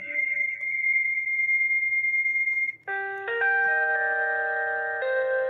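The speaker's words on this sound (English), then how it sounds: "That's just the on-hold music." On-hold music plays through a Hikvision DS-KV6113-WP door intercom connected to a SIP phone: a thin, electronic sustained tone gives way to a series of stepped synthetic chime notes, clear and fairly loud, with no voices.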